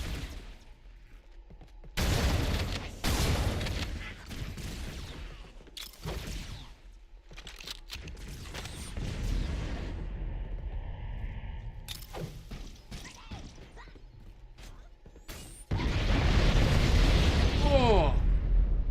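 Grenade blasts in the video game Halo: Combat Evolved: several sudden booming bursts spread across the stretch, with gunfire-like crackle and a sustained loud roar near the end, heard alongside voices talking.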